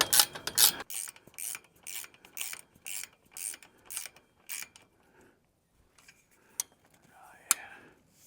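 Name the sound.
ratcheting a bolt into a chain link fence corner bracket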